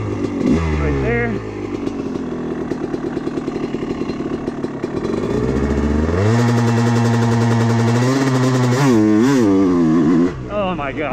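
A Honda CR250 two-stroke dirt bike being broken in revs and rises, then bogs down under load as the engine note sags and struggles before pulling up again, loud and close with wind noise.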